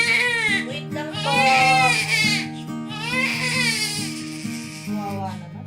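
An infant cries loudly and close by in repeated wailing bursts with short breaths between them, while low steady music plays underneath.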